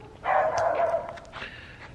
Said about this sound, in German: Das ist mein Hund, der hier gerade bellt.